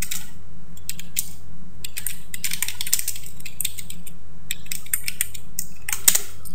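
Rapid clicking of typing on a computer keyboard, irregular bursts of keystrokes close to the microphone with a soft steady hum underneath and a sharper click near the end.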